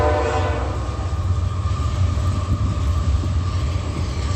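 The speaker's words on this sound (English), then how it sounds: "That's amplification of a train." A train passes late at night, its low rumble and rail noise steady and loud throughout with a sustained horn-like tone running beneath, no voices present.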